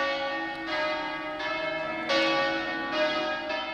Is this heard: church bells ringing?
yes